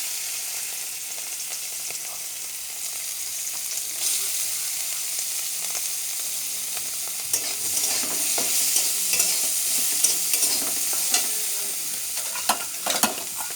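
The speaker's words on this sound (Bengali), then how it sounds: "এখন দিয়ে দিলাম কাঁকরোল ভাজা।" Spiny gourd (kakrol) slices fry in a hot pan, giving a steady close sizzle broken by sharp scraping clicks as they are stirred, with no voices.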